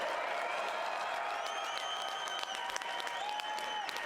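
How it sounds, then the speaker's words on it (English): Steady crowd applause greets two MMA fighters after a three-round bout at an amateur cage event, a dense continuous patter of many hands filling the hall, with faint whistles rising above it. "how about one more round of applause for these two warriors?"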